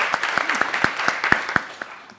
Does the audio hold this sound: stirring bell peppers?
no